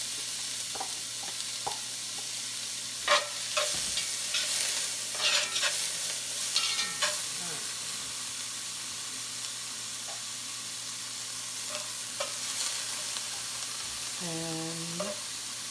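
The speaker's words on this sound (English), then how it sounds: "saute this down a little bit till it gets translucent" Two stalks of celery sautéing in about three tablespoons of olive oil in a pot, giving a soft, steady frying hiss broken by occasional utensil scrapes and stirring clatter, fairly quiet and close.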